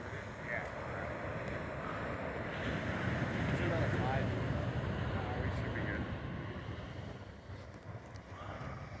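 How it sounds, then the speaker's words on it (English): Ocean surf at the Wedge in Southern California on a warm October morning, a loud continuous wash of breaking waves mixed with wind noise on the microphone. "More waves."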